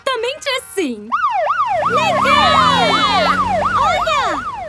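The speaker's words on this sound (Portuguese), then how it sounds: "as sirenes são para emergências exatamente assim" Cartoon emergency vehicles stuck in a traffic jam start with a few short honks, then loud wailing sirens rise and fall in quick, regular cycles, overlapping one another up close.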